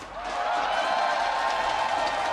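Fans cheer for the Valiant at an esports match against the Gladiators, a broad roar of crowd voices and scattered clapping in an arena that rises quickly and then holds steady.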